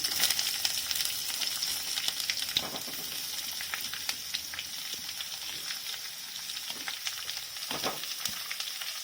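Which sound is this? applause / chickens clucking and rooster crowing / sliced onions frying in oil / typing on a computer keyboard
sliced onions frying in oil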